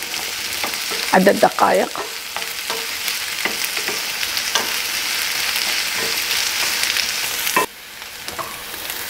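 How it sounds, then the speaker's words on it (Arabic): Onion sizzles and crackles in hot oil under steady stirring, a dense close frying hiss with a few clattering scrapes, then the sound drops off suddenly near the end; a voice speaks briefly. "حمى الزيت، راح نضيف البصل، راح نحمس البصل إلى أن يلين"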